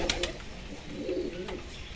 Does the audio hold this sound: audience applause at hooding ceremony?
no